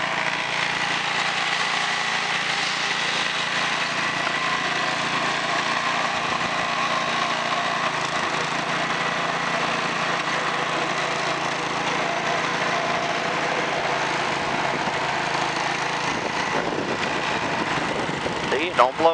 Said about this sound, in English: Always pick your chute. You're not blowing snow in the street.